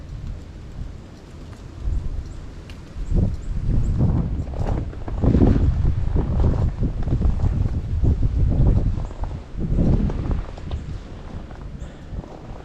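Strong, frigid gusts of winter wind roar and buffet the microphone in uneven surges on a below-zero homestead, loud and close, with no one speaking.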